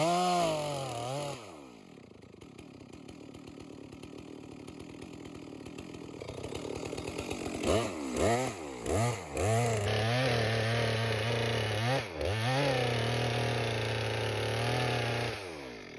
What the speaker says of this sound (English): you can always stop the saw and feel where the back of the cut is as a guideline